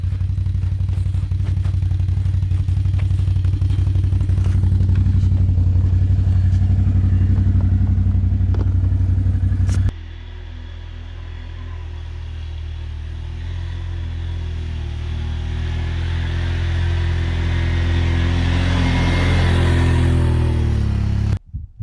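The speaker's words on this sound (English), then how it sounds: "Outlander's handling it pretty good." A Can-Am Outlander ATV rides a snowy, icy trail, its engine a loud steady rumble with rattling that drops off abruptly midway, then a quieter rising engine note and crunching building toward the end.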